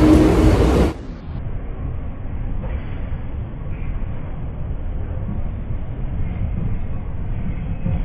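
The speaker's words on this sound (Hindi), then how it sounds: "ये लोकल ट्रेन है भाई देख लो" A Mumbai local commuter train rumbles steadily at close range, with a burst of loud noise at the start giving way to continuous low mechanical rolling.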